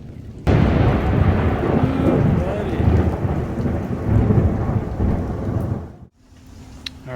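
Heavy thunder rumbles loud and close through a rainstorm, a sustained roll lasting about five seconds over steady rain, then dropping away to a quieter hiss of rain.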